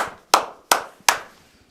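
Three crisp, close hand claps land evenly spaced about a third of a second apart on the Good Morning Huntsville show. Each one decays quickly into near silence.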